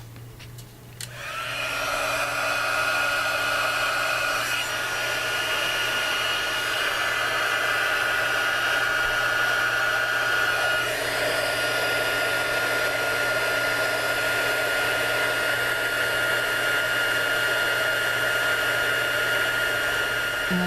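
A heat tool blows steadily as it melts embossing powder on a stamped card. Its whirring hiss starts after a brief click and holds for about twenty seconds, close and constant, with no talk.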